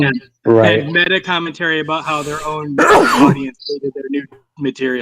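One sharp sneeze bursts out in the middle of a lively conversation between several people, loud and close against the surrounding talk.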